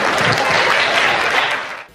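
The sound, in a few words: loud applause for Rohit Pandey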